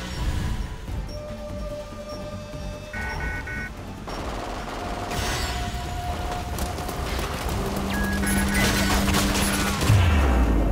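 Rapid gunfire bursts and fusillades ring out in the multiplayer shooter Resident Evil Umbrella Corps, set at a Raccoon City police department fence, with sustained volleys, mechanical clanks and a heavy low thump near the end.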